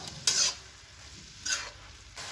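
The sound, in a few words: stirring Chinese samosa filling with sauces in pan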